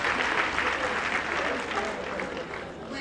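A crowd claps at a political alliance launch in a conference centre, dense continuous applause close and fairly loud, easing slightly toward the end.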